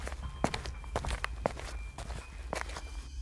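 Footsteps of people walking in an animated film, a handful of distinct, fairly close steps at an uneven pace over a low background hum.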